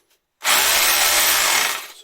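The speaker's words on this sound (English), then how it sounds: "if we put it on hammering, so you have the sound of the hammer" A Milwaukee PH26 TX hammer drill runs in hammer-only mode, giving a loud, dense, rasping roar that starts abruptly and holds for over a second before tapering off.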